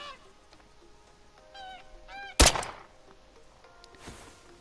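Hunting call blown to lure game in theHunter: Call of the Wild. A few short, reedy, honking call notes come in quick bursts, followed by a sudden heavy thump and a softer burst of noise.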